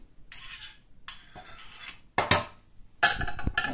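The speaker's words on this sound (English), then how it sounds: "And what I like to do is scrape off the excess," A regular spatula scrapes excess freshly ground coffee off a portafilter basket for a Fracino Piccino espresso machine, giving a few short, close scraping and clinking strokes in separate bursts, with quiet gaps between them.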